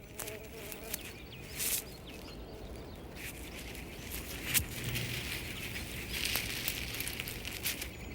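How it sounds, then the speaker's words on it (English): A bee buzzes in the early-morning wilds of Yellowstone near a young coyote pup, a faint, steady drone over quiet background with soft rustles and a few brief louder bursts. "But he can barely handle a bee."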